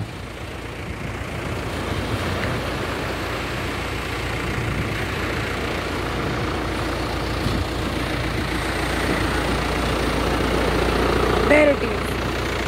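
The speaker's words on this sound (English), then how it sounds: "It's creating roads on the sandy beach, smoothening the beach for the tourists." A tractor engine drones in a steady rumble at moderate distance while grading a sandy beach, with a faint breezy background and a brief louder bump near the end.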